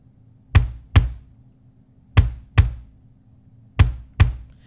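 Three pairs of dull, thumping bass drum hits without EQ, each double beat evenly spaced, with short decays and a low steady hum underneath.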